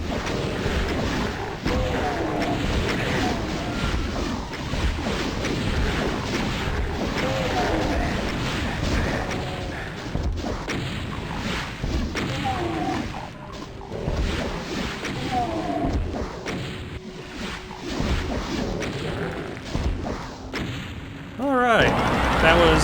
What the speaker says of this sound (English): Switch the rocket launcher.